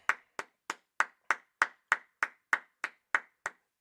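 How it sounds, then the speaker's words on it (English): A single person claps twelve times in a steady, even rhythm, each clap sharp and close with a quick decay, alone in a quiet space. "clap it up"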